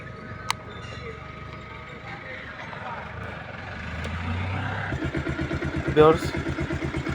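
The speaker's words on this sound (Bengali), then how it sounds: "তো বেশ আপনাদের গাড়িটা স্টার্ট করে দেখাই।" A Bajaj Pulsar double-disc motorcycle is started after a stretch of low background rumble; about two-thirds in, its engine catches and settles into a steady, close, rhythmic putter.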